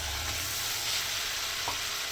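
Potatoes and chopped tomatoes sizzle steadily in a hot pan, a constant close crackling hiss with a faint scrape of stirring.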